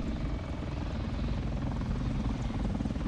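A helicopter flying close overhead in War Thunder, a loud steady rotor thrum and engine roar filling the whole moment without letup.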